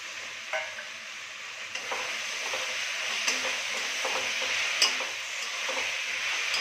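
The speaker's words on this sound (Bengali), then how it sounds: "এখন এটাকে ভালো করে আলুটাকে মশলার সাথে কষিয়ে নেব, ভালো করে ভাজবো এটাকে।" Diced potatoes, pre-fried with salt and turmeric, stir-fried with spices in a pan, giving a steady soft sizzle with scattered light scraping and stirring ticks, close and moderately quiet, no talking.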